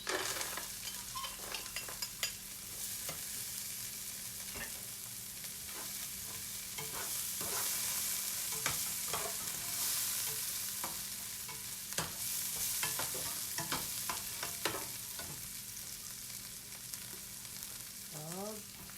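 Mixed vegetables being stir-fried for fried rice, a steady sizzle with frequent scraping and clacking of a spatula against the pan, close and continuous with no talking.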